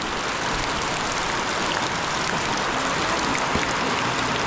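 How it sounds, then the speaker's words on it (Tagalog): Heavy rain across Bohol falls in a loud, unbroken wash of hiss and patter, close and constant with no voices over it. "Halos buong Bohol yata ang ulan ngayon"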